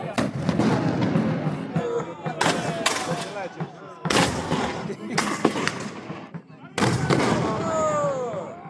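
Cannon and musket fire at a historical battle reenactment in Gdańsk, several loud sharp blasts with rolling echoes at uneven intervals, with crowd voices and shouting between them.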